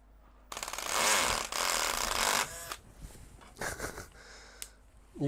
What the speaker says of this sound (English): You can't drill through a slot,